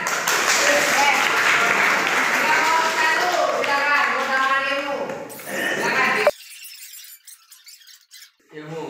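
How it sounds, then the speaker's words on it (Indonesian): Students in a classroom lesson clap for about six seconds, a dense burst of applause blended with voices, then it cuts off abruptly and gives way to quieter sounds. "Tepuk tangan."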